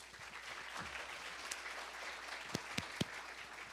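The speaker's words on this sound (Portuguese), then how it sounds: "Palmas para ele, por favor." Scattered clapping from a crowd, fairly faint and distant, with a few sharper individual claps standing out near the end.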